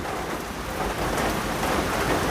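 Heavy rain pours steadily onto a surface, a dense, loud and continuous hiss with no voices.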